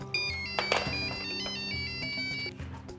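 A phone ringtone plays loudly and steadily for about three seconds, a bright repeating electronic melody over a low synthetic backing, with no voices.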